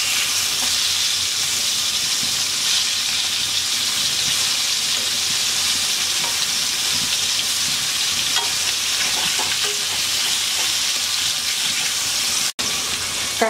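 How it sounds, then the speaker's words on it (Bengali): Spiny gourd pieces, salted and flipped, frying in oil in a wok: a loud, continuous sizzle close up, with faint scrapes of turning now and then. "কাঁকরোল এক পাশে ভাজা হয়ে গেলে উল্টিয়ে দিচ্ছি।"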